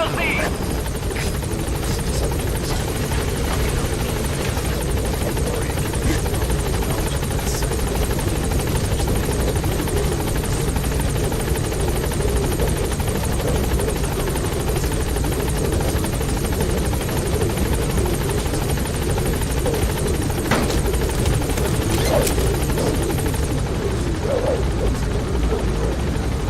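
The Pequod helicopter in Metal Gear Solid 5 arrives with a loud, constant rotor drone and engine roar that holds steady throughout, with faint radio chatter in the background.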